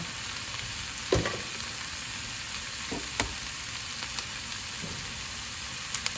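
Eggs fry in oil in a pan beside corned beef hash, a constant even sizzle with a few sharp taps and crackles scattered throughout, fairly close and moderately loud.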